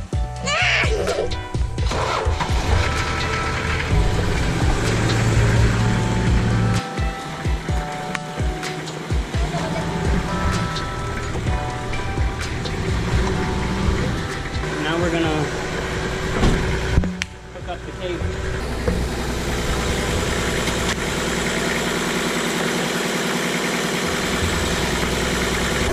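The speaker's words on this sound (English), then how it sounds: "how do you jump start a car?" Truck engine catching and settling into a steady idle after a jump start on a vehicle with no brakes, a continuous mid-to-low rumble running throughout with people talking over it.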